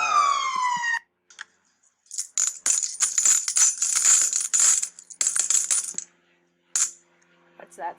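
Coins drop and clatter in a loose series of metallic jingles and clinks, fairly close and loud, starting right after a short rising electronic tone and fading into scattered taps.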